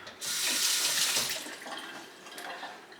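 Tap water runs and splashes as a water filter is rinsed beneath it, the gushing strong at first, then uneven as the flow is interrupted.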